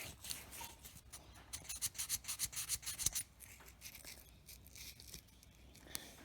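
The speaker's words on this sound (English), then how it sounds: "I've just got some 800 grit paper here, and I'm just polishing this to get any just surface corrosion and what have you off it." Hand polishing of a .22 rimfire firearm's chamber part with 800 grit abrasive paper, a soft, quiet rubbing that comes in a quick back-and-forth burst of strokes, then lighter scuffs and handling.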